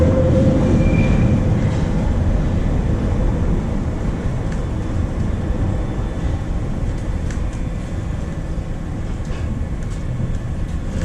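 A London Underground train rumbles along steadily, heard from inside the carriage, with a loud low roar of wheels on track and occasional faint squeals.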